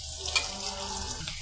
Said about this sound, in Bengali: আমার পেঁয়াজটা ভাজা হয়ে গেছে